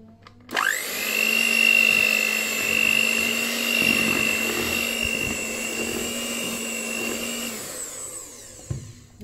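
An electric mixer whirs through apple cinnamon cake batter as baking powder is mixed in, starting abruptly and holding a loud, steady whine for about seven seconds before cutting off.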